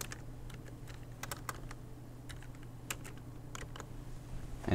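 Computer keyboard being typed on while entering a series name in an Excel 2003 spreadsheet: a quiet, close sequence of separate key clicks in small irregular bursts, with a low steady hum underneath and no speech.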